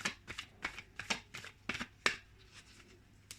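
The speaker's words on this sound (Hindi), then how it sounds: "चलिए हम कार्ड्स को शफल करते हैं।" Tarot cards are shuffled in a quick run of crisp riffling bursts, about a dozen close papery flicks at an irregular pace, quiet and with no talking.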